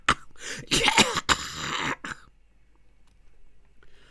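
A harsh coughing fit with throat clearing in a few loud bursts, close, then the breath fades into near quiet.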